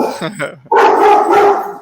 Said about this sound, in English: Oh, dogs.